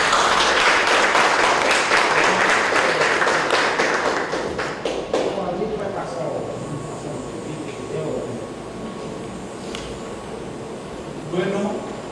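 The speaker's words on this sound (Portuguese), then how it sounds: "un fuerte aplauso por este feliz cumpleaños" Loud audience applause for a 105th anniversary celebration, dense rapid clapping for about five seconds that fades out, followed by a speaking voice in a quieter room.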